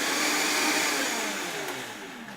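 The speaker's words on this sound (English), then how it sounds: "I'm just going to give it a quick pulse in the blender here" A blender pulses garlic and ginger in one short, loud burst of steady motor whir that eases slightly toward the end, with no voices.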